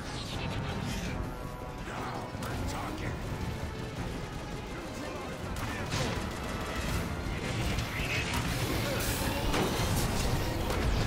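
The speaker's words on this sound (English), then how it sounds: "then you're just spamming the fusion cannon everywhere." Megatron's fusion cannon fired repeatedly in Transformers: War for Cybertron, giving dense crashing blasts and mechanical clatter that swell slightly over time, with a voice talking underneath.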